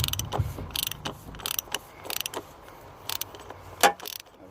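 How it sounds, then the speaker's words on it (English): A large socket turns a top-mounted oil filter on a Range Rover L322, giving quiet, irregular clicks and ratcheting taps in short clusters, with one sharper knock near the end. "the oil filter, which you unscrew from the top"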